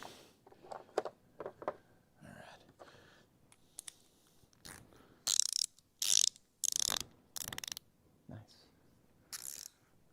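Bursts of ratcheting from a TMX 98 tool while a toolbox is assembled, with several bright, loud clicking runs after quieter handling noises, all close.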